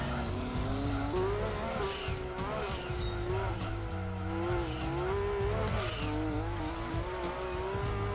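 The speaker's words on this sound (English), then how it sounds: "coming out of the corners, you can definitely nail the throttle" A Gran Turismo 2 race car engine revs hard and accelerates out of corners, its pitch climbing and dropping through gear changes, with tire squeal and constant loud engine drone.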